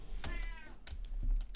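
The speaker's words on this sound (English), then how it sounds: "cat's behind me." A cat meows once nearby, a drawn-out rising-and-falling cry, while computer keys clatter and click in the background during indoor game play.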